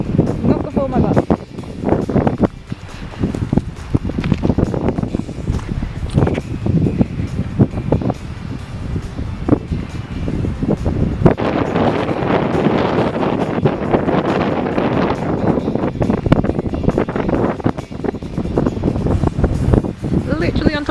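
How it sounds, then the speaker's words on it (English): Strong gusting wind on top of a hill in the Cairngorms pounds the microphone in loud, rough blasts that build heavier in the second half, while a person talks through it. "it's very, very windy on top of this hill."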